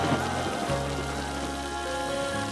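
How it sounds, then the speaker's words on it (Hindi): Steady rain pattering on a surface, a continuous close wash of droplets with a soft tonal hum underneath. "बारिश अच्छी लगती है क्या?"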